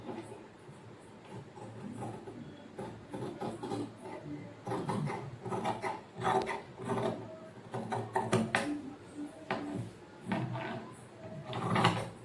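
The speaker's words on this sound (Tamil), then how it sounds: "இப்போ அதை தனியாக கட் பண்ணி எடுத்துக்கலாம்" Scissors cut through blouse fabric on a table, a series of crunchy, mechanical-sounding snips in an uneven rhythm, close by, with no speech.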